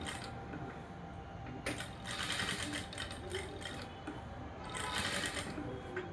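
A sewing machine stitches blouse lining at a slow, patient pace, its soft rapid mechanical chatter running in bursts that swell and fade, fairly quiet and close.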